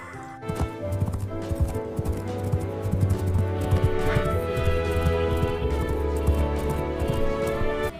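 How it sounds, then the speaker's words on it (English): A horse clip-clops with steady hoofbeats and gives a whinny, set against a continuous musical backing that keeps going the whole time. "H for horse."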